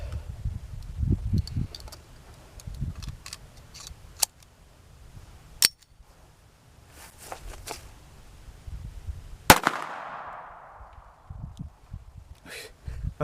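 A Browning .22 pistol fired outdoors: a few sharp, separated cracks, the last one louder with a ringing tail, amid light handling rustle and quiet gaps.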